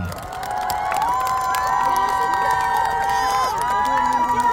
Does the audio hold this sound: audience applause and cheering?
yes